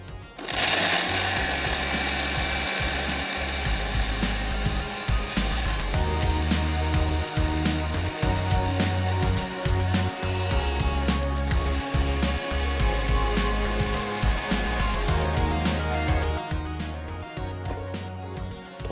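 A kitchen blender grinding raw mango for aam panna, its motor a loud, steady whir with a rhythmic pulsing chop that runs throughout.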